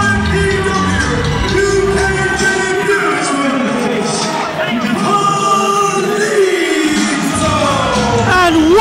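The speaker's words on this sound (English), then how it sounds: "what a reception Carlito gets from the crowd here" A wrestling crowd roars steadily throughout Carlito's entrance at an international singles match, with loud, sustained cheers and yells, a commentator speaking over the noise.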